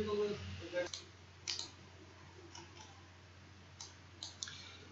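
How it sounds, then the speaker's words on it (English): Computer mouse clicks while working in STAAD Pro, a handful of sharp, isolated clicks spaced irregularly and heard close and fairly faint after a brief bit of voice at the start. "Then I will simply click on add."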